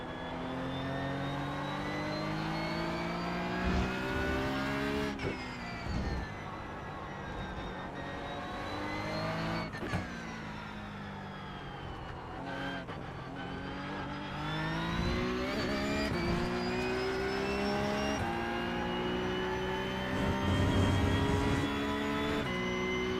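Porsche Cup race car in the iRacing sim, its engine droning steadily near and loud throughout, rising and falling in pitch as the driver works the throttle and shifts gears, with sharp revving surges between.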